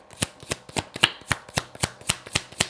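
Tarot cards are shuffled in a quick, even rhythm, about a dozen crisp riffling snaps close up, with nothing else around them.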